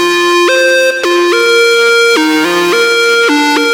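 A synth layer meant to thicken a guitar lead, playing a stepped melody of sustained, harmonically rich notes with smooth pitch jumps between them, loud and isolated with no voices.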